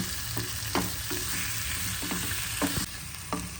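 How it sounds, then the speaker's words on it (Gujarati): Tomatoes and chillies roasting in a pan give a continuous loud sizzle, broken by several short stirring scrapes and clacks, with no voices. "જો સાઈડ ચેન્જ કરતા જવાનું અને ટમેટા શેકી લેવાના છે જો આપણે મરચાં સરસ શેકાઈ ગયા છે"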